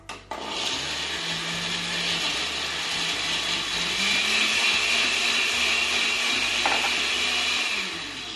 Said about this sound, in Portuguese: vamos bater aqui no liquidificador só para desmanchar